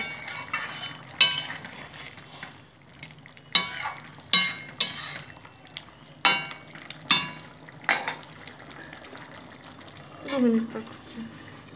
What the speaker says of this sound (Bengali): আবার নাড়িয়ে নেব।